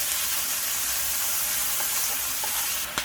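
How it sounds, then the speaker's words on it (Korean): Seasoned meat being pressed and stir-fried in sesame oil in a hot pan for yak gochujang, a loud continuous close sizzle with faint scraping of the utensil. "이걸 눌러가면서 이렇게 볶아주세요"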